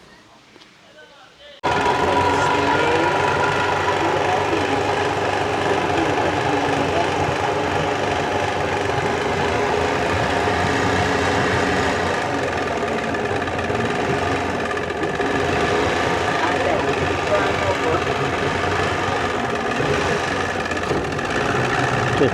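A motor boat engine kicks in abruptly and runs loud and steady during a boat ride at Quba Venice, a droning, vibrating hum that continues throughout while people talk faintly beneath it.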